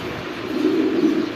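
A single female pigeon of a show breed gives a short, close, low cooing call, heard alone and fairly loud.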